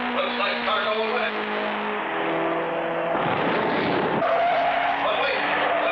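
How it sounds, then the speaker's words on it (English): Cartoon race car in a race skidding out of control, a loud, sustained tire screech and engine roar filling the whole stretch, shifting pitch as the car slides. "Clutch Cargo's car seems to have gone wild. He's lost control."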